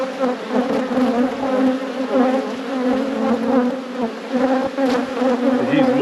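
Agitated honey bees swarm at an open hive, a loud, dense and steady buzz close by with pitch wavering as individual insects pass near.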